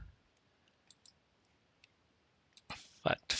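Several faint, sparse computer mouse clicks tick through a quiet stretch while data fields are connected one by one, followed by a few louder, fuller clicks or bumps near the end.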